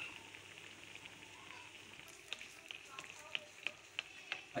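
A besan-coated potato sandwich frying in ghee in a pan, giving a faint, steady sizzle with scattered sharp pops and crackles that grow a little more frequent.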